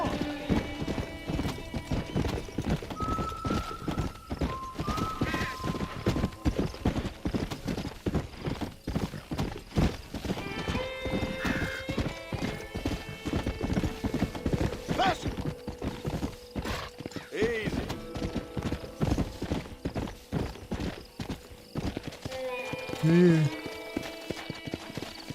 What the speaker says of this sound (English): O cavalo pula isso aqui.